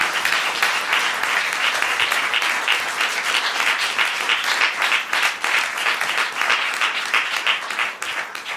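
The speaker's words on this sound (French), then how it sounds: "Je vous demande de l'applaudir" A French audience gives loud, dense, sustained applause for a singer at a show, a continuous wash of many hands clapping with no voices on top.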